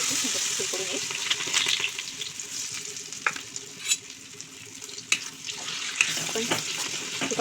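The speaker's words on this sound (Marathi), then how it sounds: "आपण तुपात चांगल्याला भाजून घेऊया" Moong dal roasting in hot ghee over low flame, a bright continuous sizzle broken by scraping stirs and a few sharp clinks of a spoon against the pan, close and moderately loud.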